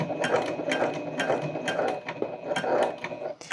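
A sewing machine stitching around the boxed corner of an oversized tote bag, with steady rhythmic mechanical chatter interrupted by brief pauses as the fabric is turned.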